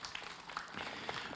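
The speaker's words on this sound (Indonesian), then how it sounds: "Tepuk tangan dong buat Habib Usman." A studio audience breaks into applause on an Indonesian Islamic talk show as a guest is welcomed, producing a brief, dense burst of steady clapping that fills the room.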